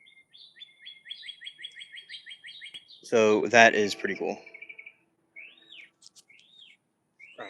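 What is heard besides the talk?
birds chirping in garden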